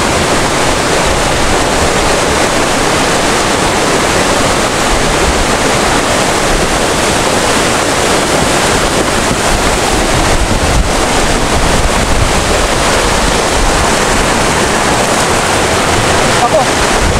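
Floodwater flows as a strong current beside a spot where tilapia gather, making a loud, dense, unbroken rushing roar close to the microphone with wind buffeting throughout.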